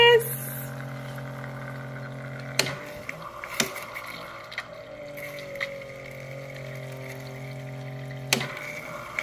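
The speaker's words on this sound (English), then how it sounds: "I'm just going to hit mix. And it's making my drink." A drink machine blends a mistletoe martini in a home kitchen, a steady mechanical whir and liquid churning with a few sharp clicks, running close and continuous under a voice.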